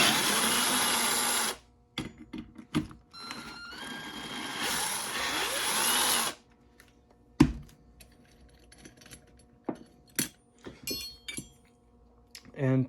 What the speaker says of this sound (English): just using the power drill